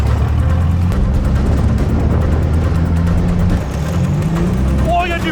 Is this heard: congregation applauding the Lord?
no